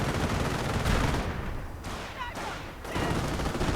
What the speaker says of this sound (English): heavy machine gun fire and otherwise high explosive fire from the tanks